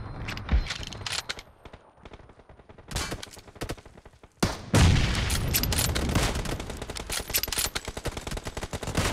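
Bursts of gunfire from the battle-royale video game PUBG, with dense automatic volleys and sharp single shots, a loud boom near the middle, then sustained rapid fire continuing to the end.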